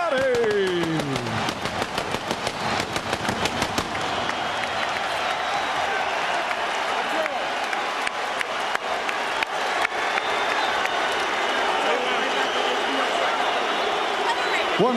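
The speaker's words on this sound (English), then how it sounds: "a round of applause for Irish Micky Ward and Arturo Thunder Gatti" Arena crowd applauding and cheering boxers Micky Ward and Arturo Gatti after their fight, a sustained loud roar of clapping that holds steady throughout with an announcer's voice over it at the start.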